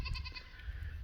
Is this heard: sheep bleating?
yes